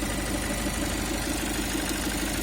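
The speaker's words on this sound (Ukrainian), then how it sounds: "Це не бензиновий, це дизельний мотор." A steady, low diesel engine idle from a 2019 Peugeot Boxer 120 kW van runs throughout, a constant rumbling drone with a slight knocking texture, close by and without speech.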